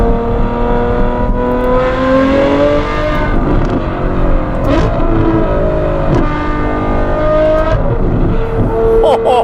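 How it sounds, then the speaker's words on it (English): The V12 engine of a Novitec Ferrari F12 N-Largo revs loudly and repeatedly in Dubai, pitch climbing and dropping through gear changes, close up and sustained. "keep the revs up so you guys just hear that V12 bellowing"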